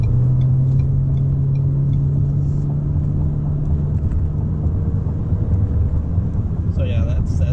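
A 2019 Ford Fusion SE with a 4-cylinder EcoBoost engine accelerating hard, heard as a steady engine drone and road rumble from inside the cabin, with a tone fading after a few seconds and a brief voice near the end.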